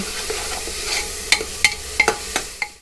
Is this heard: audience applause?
no